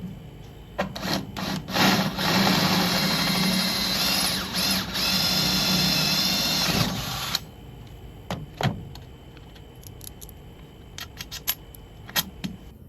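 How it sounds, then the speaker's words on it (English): A power drill bores holes through a metal hitch in a workshop, giving a long, loud whirring run of several seconds that then stops, followed by scattered clanks and short taps of handling the metal. "I need to drill a hole to put the pin through here."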